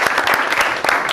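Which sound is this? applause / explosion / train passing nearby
applause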